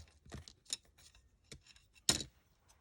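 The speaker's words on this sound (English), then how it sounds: "So I'm using Fiskars Fabric and Mixed Media, and just cut into the center." Fiskars Fabric and Mixed Media scissors snip into paper poinsettia petals, a few quiet, crisp cuts spaced irregularly, the last one loudest, close up in an otherwise hushed room.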